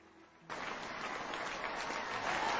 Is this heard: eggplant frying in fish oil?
no